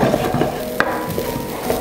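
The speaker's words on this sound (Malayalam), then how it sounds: "ഇളക്കി യോജിപ്പിക്കാം." Puttu upma being stirred and mixed in a frying pan, soft scraping and faint sizzling with a brief clink of a spoon against the pan, close by.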